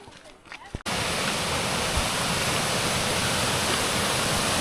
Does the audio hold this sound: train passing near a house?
no